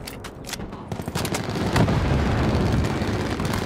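A sentry gun fires in a Kill Confirmed match on the Arsenal map in Black Ops 4, with rapid, loud bursts building into a dense, sustained wall of gunfire and rumbling blasts.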